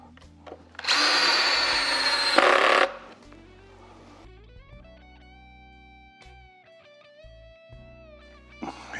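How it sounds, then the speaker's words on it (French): A power screwdriver drives screws into a Gibson SG guitar during assembly: one long, loud whirring run, then shorter bursts of a higher motor whine that rise and fall in pitch, with a final brief spin at the end. "on visse."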